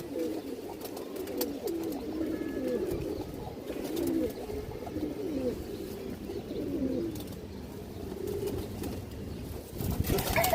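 Low cooing from a male and female pigeon pair drifts on and off through a loft, soft murmurs repeating at close range over faint background rustling.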